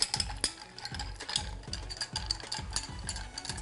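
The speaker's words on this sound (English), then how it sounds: "we're going to add some ice. And we're going to give this a stir" Ice clinking and rattling in a glass while a tequila and cherry Heering cocktail is stirred, quick regular ticking clatter, close and clear with no talking.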